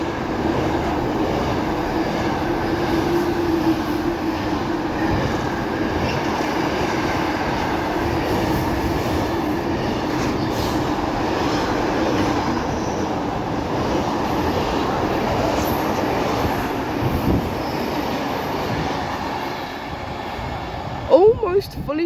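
Freightliner Class 90 electric locomotives 90042 and 90041, one in Powerhaul livery, haul a nearly fully loaded freight train from Felixstowe to Daventry past Wolverton, a steady broad rumble and rolling roar sustained throughout, with a brief clatter near the end.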